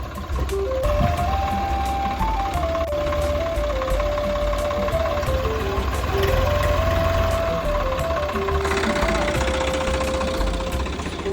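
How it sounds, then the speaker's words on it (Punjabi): A tractor engine idles and runs steadily nearby, a constant low diesel rumble and knock with a stepped melodic electronic tone playing over it throughout. "ਉਹ ਸਿਮਰਨ ਵੀ ਪਹੁੰਚ ਗਿਆ ਜੀ ਟਰੈਕਟਰ ਲੈ ਕੇ"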